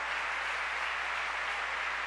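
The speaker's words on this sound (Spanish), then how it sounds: "¿Cuánto le da un aplauso fuerte al Señor?" A church congregation at a Sunday service applauds the Lord, producing an even, continuous wash of clapping at moderate volume with no individual claps standing out.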